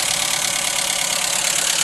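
A car engine with about 70,000 miles on it, recently restarted after a flat battery and leaking oil, runs at a steady idle close by, with an even, rough mechanical drone and no talking.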